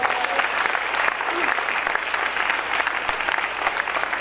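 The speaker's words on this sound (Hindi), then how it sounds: "यीशु के लिए जोरदार तालियां बजाएं।" A church congregation claps loudly and continuously for Jesus, a dense wash of applause throughout with a voice faintly over it.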